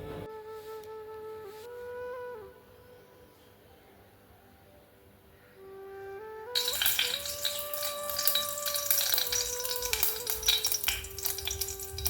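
Mustard seeds, pepper and chillies tempering in heated oil burst into a bright, crackling sizzle partway through. Before that, gentle music plays alone, and the music continues under the frying.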